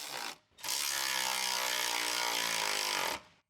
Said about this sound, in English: Use an 8mm short socket with a short extension bar and electric ratchet wrench to tighten the fan mounting bolt.